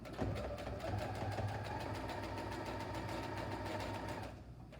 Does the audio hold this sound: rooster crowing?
no